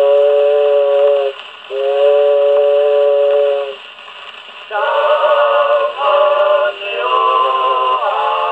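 On an old Columbia 78rpm record, a vocal quartet imitates a steamboat whistle with two long, steady harmonized blasts followed by several shorter, choppier whistle calls over a constant record hiss.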